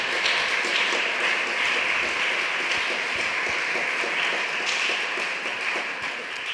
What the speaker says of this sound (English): a big applause to Professor Laughlin